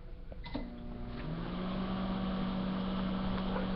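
A microwave oven heating a container of water runs with a steady, loud electrical hum and whir, starting after a brief click and holding constant throughout.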